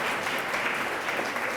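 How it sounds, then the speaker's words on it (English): An audience at a Columbus Metropolitan Club forum on economic mobility, held in the Italian Village area, applauds steadily as a dense, even wash of clapping with no voices over it. "Give yourselves a round of applause."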